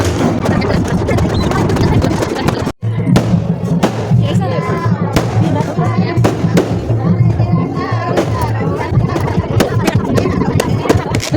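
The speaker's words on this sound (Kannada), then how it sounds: "ಮತ್ತೆ ಪಟಾಕಿ ಹಚ್ಚಾರ" Continuous crackling bursts of firecrackers go off loudly at a village temple fair, with sharp bangs and a crowd murmuring beneath the din.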